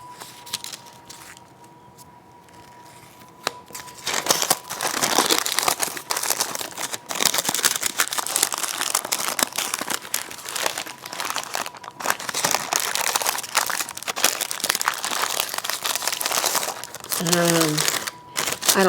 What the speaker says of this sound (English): I'm not sure which size of these parchment papers, because I've never wrapped them in parchment before.